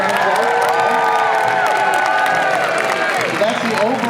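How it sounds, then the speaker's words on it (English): A crowd at the Boston Tuba Christmas concert gives loud, sustained applause and cheering, filling the space with steady clapping mixed with whoops and scattered voices. "Nice big round of applause."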